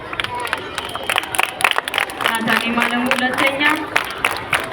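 Children and an audience clap for a pupil's result at a school class event, a brisk patter of many hands under a voice speaking over it.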